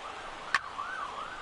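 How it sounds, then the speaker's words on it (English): A police car or ambulance siren wails faintly in the distance, heard through an open window, rising and falling steadily with a brief sharp click partway through. "I don't know if that was the police or ambulance going by"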